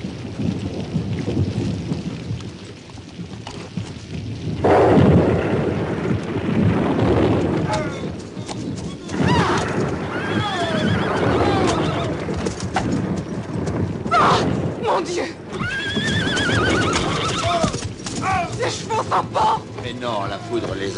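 Horses draw a carriage through a violent thunderstorm, their hooves clip-clopping under heavy rain while thunder rolls loudly and a horse whinnies amid the din.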